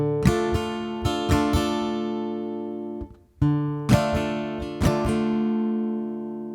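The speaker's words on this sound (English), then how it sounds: "our thumb is going to play the bass note of the A, and then our fingers are going to strum down" An acoustic guitar alternates a plucked bass note with a few light strums, each chord ringing out, with a brief pause midway before the pattern resumes.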